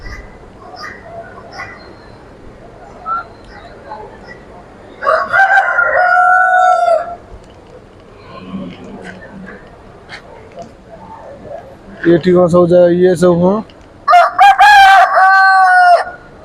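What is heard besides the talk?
Kadaknath chickens, rooster crowing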